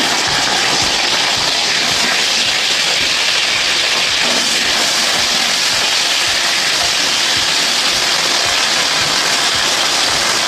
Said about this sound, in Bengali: এবার বন্ধুরা আমি ভেন্ডি কটা ভেজে নেবো